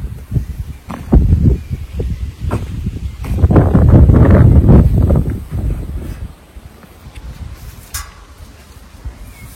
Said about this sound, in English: It's a bit windy, so hard to tell.